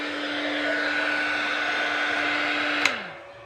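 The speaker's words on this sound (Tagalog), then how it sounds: "saka lang pala ikot yung kanyang blower kapag meron na siyang load." A power inverter's cooling blower spins under load with a steady whirring hum and a constant low tone, then a sharp click as it cuts off and the whir winds down quickly.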